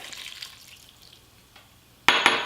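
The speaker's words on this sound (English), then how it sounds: "Now I'm going to add a little more milk." Milk splashes as it is poured into cake batter for Easter bunny cakes. A short, bright pour bursts out loudly near the end after a quiet stretch.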